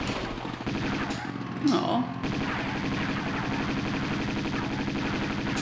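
Gunfire from Lara Croft shooting in the video game Tomb Raider II, in the Tibetan Foothills, comes as rapid repeated shots filling the clip, with a brief voice reacting partway through.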